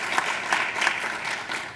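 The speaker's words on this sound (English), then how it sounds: "an applause for Tim." An audience at a Chamber of Commerce installation ceremony applauds a departing board member, with dense, even clapping from a crowd filling the room throughout.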